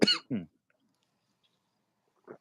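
Two quick, harsh coughs close to the microphone, then silence, followed by a faint short throat sound.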